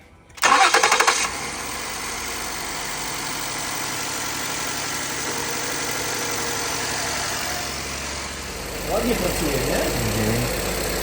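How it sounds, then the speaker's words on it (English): A cold Ford car engine starts with a loud crank burst, then settles into a steady, even idle that holds for several seconds, with someone talking over the running engine near the end. "Look how beautiful this engine's working, and it's still cold."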